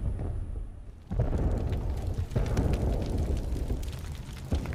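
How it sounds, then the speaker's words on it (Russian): Mines laid by Cossacks go off during an Ottoman assault on Azov in a Russian documentary, heard as deep rumbling booms: one heavy blast lands and a second follows, each swelling into a sustained roar with crackling debris. "Повсюду стали раздаваться взрывы."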